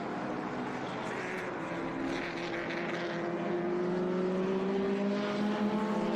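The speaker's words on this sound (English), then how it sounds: "That's a Datsun B210 there of Richard Bateman" A Datsun B210 sedan races on the Laguna Seca track, its engine note slowly climbing in pitch as it accelerates past, a sustained mid-distance drone with no talk over it.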